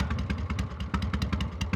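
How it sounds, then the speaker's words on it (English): A 1978 Harley-Davidson FXE Super Glide Shovelhead V-twin idles through a non-standard exhaust with a loose, lumpy beat, uneven pulses thumping steadily, close and fairly loud. "Listen to the exhaust."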